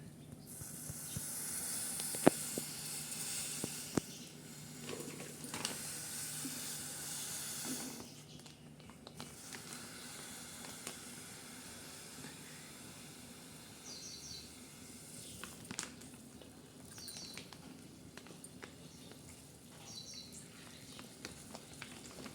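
Oil hisses in a hot pan before curry leaves go in for a spicy dry cowpea pod dish. The sizzle is moderate and uneven, swelling and fading with a few faint clatters.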